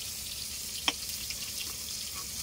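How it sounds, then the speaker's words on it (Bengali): Pointed gourd (potol) pieces fry in hot oil with a faint, steady hiss and a single sharp pop, and no talk. "আমি এবার পটলগুলো ভেজে নেব"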